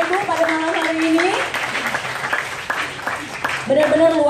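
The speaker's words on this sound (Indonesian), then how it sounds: "Berikan tepuk tangan untuk 3 narasumber kita Bapak Ibu pada malam hari ini." A crowd at an evening leadership talk show claps for three guest speakers. The applause comes as a brief patter between spoken lines from a host, whose voice is heard before and after it.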